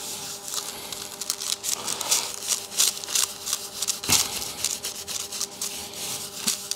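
A cloth rubs ink off a collagraph printing plate, where glue-coated raised areas wipe clean; steady close scrubbing and rubbing strokes continue throughout with a few sharper scrapes and no talk.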